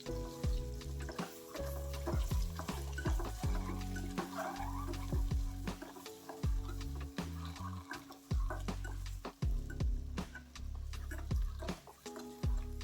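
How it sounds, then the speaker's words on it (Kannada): Onion-spice mix with salt and chili powder frying in a pan for egg biryani, a steady low sizzle with repeated scraping and stirring clicks of a spoon throughout, no talking. "ಒಂದು ಹಾಫ್ ಸ್ಪೂನಷ್ಟು ಅಚ್ಚಕಾರದ ಪುಡಿನ ಹಾಕ್ಕೊಂಡು ಒಂದು ಐದು ನಿಮಿಷ ಫ್ರೈ ಮಾಡ್ಕೊತೀನಿ"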